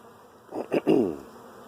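Honeybees buzzing around frames of brood as they are swept into a hive, a few close swelling bursts of buzzing over a quiet background, with no talk.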